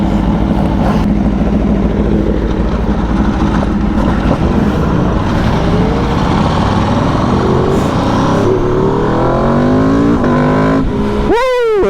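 A 2024 Aprilia RSV4 1100 Factory superbike engine roars loud and steady throughout, climbing in pitch near the end as the revs rise in a sharp acceleration.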